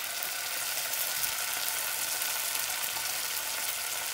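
Vegetables for Manchurian frying in a pan as chili sauce goes in, an even, continuous broadband sizzle throughout, close and steady, no talking.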